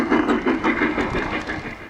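A model train runs along a hobby railroad layout with a steady rhythmic clatter of wheels over rail joints, close and fairly loud, with no talk over it.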